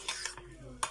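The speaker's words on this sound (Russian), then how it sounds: "Хорошенько перемешиваем, и все." A spoon stirs homemade ketchup sauce in a bowl, making a few quiet scraping clinks of metal against the dish in a short, uneven run, with one sharper tap near the end.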